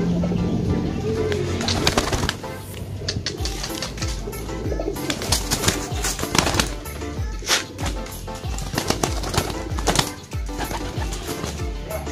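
Pigeons cooing in a loft where racing pigeons are kept: repeated soft, rolling coos that are loud and close, with some wing-flapping and background noise and no talk.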